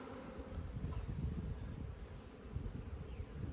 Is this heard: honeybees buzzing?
yes